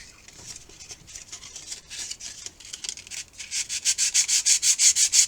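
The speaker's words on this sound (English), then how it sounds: "The hardest part of doing this is making sure you have the sandpaper round, so you're not gouging out sections" Sandpaper rubs over fin fillets on an Estes Magician model rocket, starting as soft, irregular scuffing and building into fast, loud, rhythmic back-and-forth strokes.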